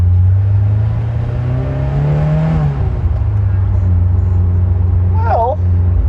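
A 46-year-old car with a five-speed manual gearbox drives along, its engine droning low, then the revs climb, drop sharply at a gear change and settle into a steady rumble, with a brief squeak near the end.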